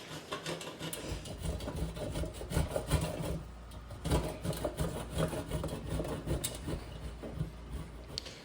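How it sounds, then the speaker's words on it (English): A block of Gruyere cheese is rubbed against a grater in a home kitchen, producing a steady, continuous rasping scrape that stays close and even throughout. "for this onion tart, I need Gruyere cheese, which I'm going to grate"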